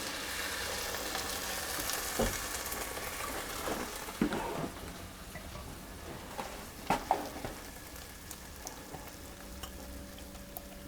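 Coconut milk poured over garlic cooking in a pan brings a soft frying sizzle, broken by a few clinks and stirring knocks, with no voices.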